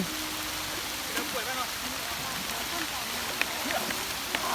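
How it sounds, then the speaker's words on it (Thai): Soft, steady rain hisses in the background while a person speaks quietly. "วันนี้ฝนตกนะครับ"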